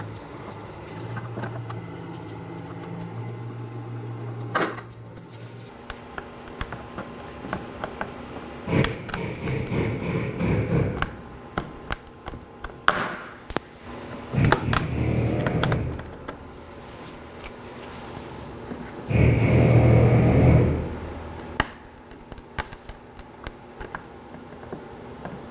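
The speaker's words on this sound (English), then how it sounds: "Now I'll be removing these with the trim tool" A trim tool pries plastic clips from the front bumper of a 2013-2019 Nissan Sentra, giving a few scattered snaps, clicks and scraping bursts, close and fairly quiet between pauses.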